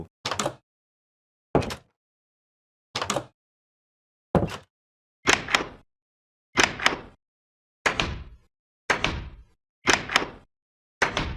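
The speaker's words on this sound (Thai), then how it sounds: "เสียงเปิดประตู" Old 2013-era Minecraft door sound effect from the video game, a series of about ten short wooden clunks spaced a second or so apart, each crisp and isolated against silence, some with a brief creaky tail.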